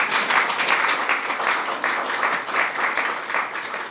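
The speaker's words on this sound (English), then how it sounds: "You can applaud that if you want." Audience applause at a swearing-in ceremony for the CMS administrator, with Vice President Mike Pence present: dense, even clapping fills the room at a steady loudness from start to finish.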